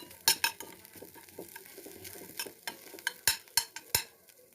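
Fried peas and puffed rice being stirred together in a hot pan, with a utensil scraping and clicking in an irregular series of sharp strikes over a faint dry rustle.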